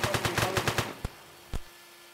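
Video game gunfire in Payday 3: a rapid burst of about eight shots in quick succession, followed by two separate single shots after short pauses, fairly faint overall.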